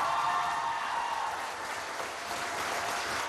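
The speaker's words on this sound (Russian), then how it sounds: "Призыв уволить декана вызвал громкие овации в аудитории, где собралось примерно 90 студентов казахоязычного отделения факультета." About 90 students from a Kazakh-language faculty department clap in an auditorium, a steady, dense ovation that holds at an even level throughout.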